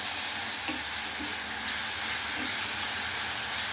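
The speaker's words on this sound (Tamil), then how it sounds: "அரைச்சிட்டு வந்த மசாலாவை நம்ம வதக்கணும்." Freshly ground masala sautés in hot oil for aloo bonda, a loud, close, unbroken sizzling hiss with faint pops underneath and no speech.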